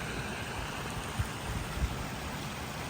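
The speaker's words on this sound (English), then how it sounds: "this is kind of the view back down from the waterfalls into the pond area" Water flows over the waterfalls into an 18,000-gallon recreational swim pond, a steady close rush of splashing with no voices.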